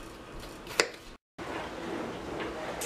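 A knife chopping vegetables in a home kitchen, a few soft quiet cuts including one sharper chop, with a short gap of silence midway.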